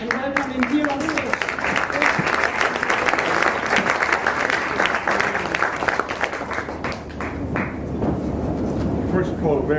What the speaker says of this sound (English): please give a big round of applause and welcome him here on stage